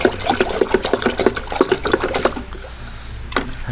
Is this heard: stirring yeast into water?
yes